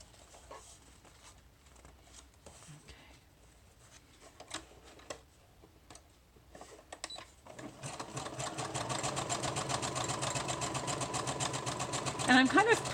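A sewing machine stitches together journal pages made from packing paper. Light handling and clicks come first, then a steady, loud, fast running stitch from about the eighth second to the end, with a voice heard faintly in the background.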